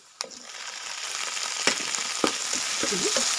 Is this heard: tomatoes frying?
yes